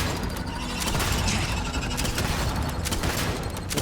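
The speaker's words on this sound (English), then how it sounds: "Great grenade. The grenade launcher." Grenade launcher fire in Starfield, heard as a dense, continuous barrage of booming blasts and crackling gunfire, loud and sustained with no pause.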